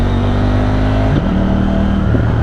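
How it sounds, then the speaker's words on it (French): A KTM 790 motorcycle's exhaust roars in a loud, steady engine drone that drops briefly midway before settling back into a sustained rumble, with no talk. "Le paf à l'échappement, c'est juste génial."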